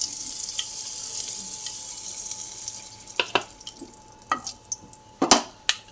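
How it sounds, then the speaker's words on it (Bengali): Three cardamom pods and a cinnamon stick fry in oil in a wok, a steady soft sizzle, followed later by sharp clatters and scrapes of utensils near the end. "কড়াইতে তেল দিয়েছি। দিয়ে 3টে এলাচ, একটা দারচিনি দিলাম।"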